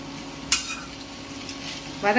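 Mint leaves sautéing in a pan for mint thuvaiyal: a soft, steady frying hiss with a sharp stir or scrape near the start and another burst of stirring at the end.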